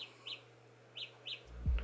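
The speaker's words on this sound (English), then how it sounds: "it is doing like a chirping sound" Aura Glow Galaxy earbuds play a locator tone: four quick, high, bird-like chirps at fairly even intervals, thin and moderately loud over faint background hiss, ending in a low thump of handling noise.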